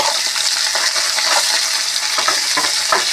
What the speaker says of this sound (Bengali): তেলের মধ্যে আদা দিয়ে দিলাম, ভাজা হয়ে যাবে।